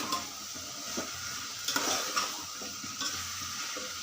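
A brinjal and potato curry cooked in ghee is stirred in a pan after water is added, giving a soft continuous sizzle with scattered scraping clinks of the spoon against the pan, faint and close, with no speech.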